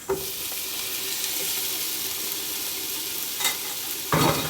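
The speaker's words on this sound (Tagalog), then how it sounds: "Igisa na natin yung kamatis." Chopped tomatoes sautéing for a monggo mung bean dish, a steady sizzle in the pan with a few stirring scrapes and clatters near the end and no talking.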